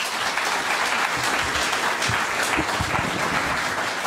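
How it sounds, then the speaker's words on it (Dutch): A lecture audience claps warmly at a debate on atheism and religion, dense sustained applause filling the room at an even, loud level from start to finish. "Geef ze een hartelijk applaus"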